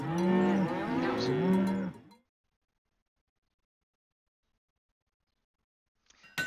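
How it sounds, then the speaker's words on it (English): Cattle mooing: two loud, close moos with a rising and falling drawn-out tone over about two seconds, followed by silence and a brief faint sound at the end. "Cows."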